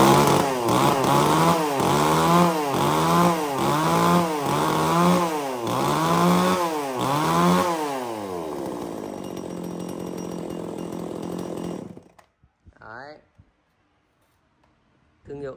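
A Tanaka chainsaw engine runs in loud, rhythmic revving bursts, about seven surges in quick succession, then settles to a steady idle before cutting off, with a few faint sounds after.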